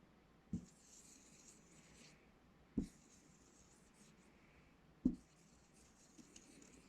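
A pen writing the word "I'd" in squiggly letters, quiet scratchy strokes in three separate spells, each opened by a soft tap, with no talk.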